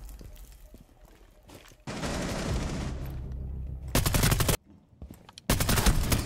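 Gunfire exchange in the video game Rainbow Six Siege: bursts of automatic fire, one long rattling stretch followed by two sharp, loud volleys separated by a short gap, with no talk over them.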